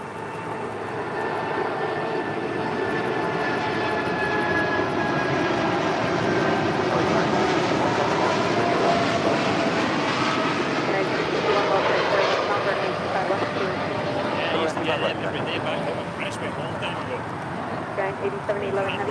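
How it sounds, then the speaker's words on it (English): An Atlas Air Boeing 747-8 freighter departing to Anchorage gives a broad, sustained jet roar that holds steady and swells slightly before easing, with a voice talking over it. "this is Atlas Air Flight 8711 departing to Anchorage on a 747-8 freighter"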